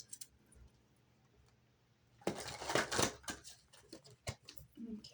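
Tarot cards are shuffled close by, a brisk flurry of riffling and snapping after a quiet start, with a few sharp taps at the end.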